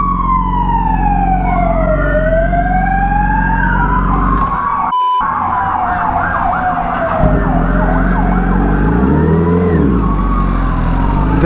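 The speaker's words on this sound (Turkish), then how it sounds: "İtfaiye araçları hala geçiyor la" Fire engines pass close by with loud wailing sirens sweeping up and down, several overlapping, over a heavy road and engine rumble that continues after one siren cuts out briefly.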